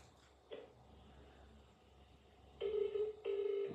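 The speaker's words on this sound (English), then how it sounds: "3 or 4 rings there." An outgoing phone call rings on the line, two electronic ring bursts close together near the end, faint and tinny, after a quiet stretch with one brief earlier blip.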